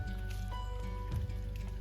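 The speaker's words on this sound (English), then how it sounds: "So Viper, that's the bacterial water that you're drinking." A dog laps water from a bacterial pool or stream on a walk, making a steady run of close, wet squishing and slurping sounds that continue with no pause and no talk over them.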